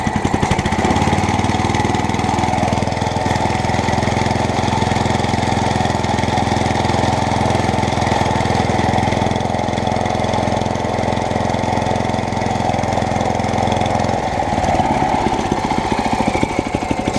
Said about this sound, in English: I have to give it big revs to make that spin, otherwise no go grow.